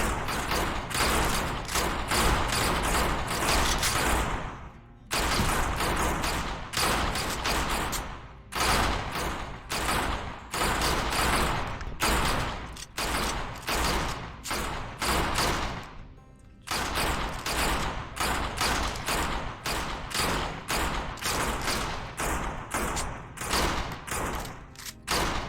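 Repeated bursts of firearm fire, loud and close, arriving in rapid volleys of overlapping shots with short gaps between strings, including a couple of near-silent pauses, no voices over it.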